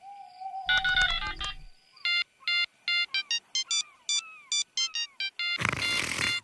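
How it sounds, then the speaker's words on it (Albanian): In a cartoon, a phone call rings out unanswered. A burst of high electronic ringtone notes pulses in quick repeated beeps with short gaps, and a noisy electronic crackle closes the sequence. "E çuditshme, peshkatari Fin nuk po përgjigjet"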